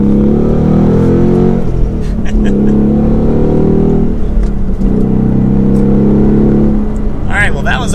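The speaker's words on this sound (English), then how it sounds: "that was up to highway speed pretty quickly without even stressing the engine" Ford Mustang Mach 1 with manual gearbox and handling package accelerating hard to highway speed, a loud, close, continuous engine roar rising in pitch through gear changes with brief dips between pulls.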